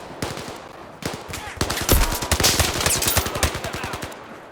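Rifle fire in Zero Caliber VR rattles in rapid, dense bursts that build into near-continuous shooting, loud and close, with overlapping shots and echoes.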